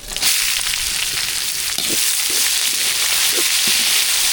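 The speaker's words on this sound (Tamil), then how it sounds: "சூப்பரான தாளிப்பு ரெடியாக இருக்குது" Cumin, curry leaves and chopped onion sizzle in hot oil as a tempering for sambar, a dense, steady frying hiss up close with a few soft stirring knocks, no voices.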